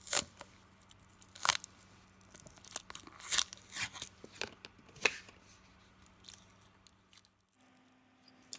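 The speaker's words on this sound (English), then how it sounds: "Now I will remove the stamp from the stamp sheet by bending the sheet holder along the perforation and peeling it back" A rubber stamp is peeled off its perforated stamp sheet as the sheet holder is bent back, giving a run of close, crisp crackles and sticky crunching snaps at irregular intervals before tapering to quiet.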